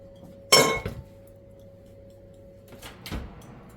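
Red lentil and sweet potato croquettes in a dish being placed into an oven: a sharp clattering clink of the dish, then quiet, then a softer thud as the oven door closes.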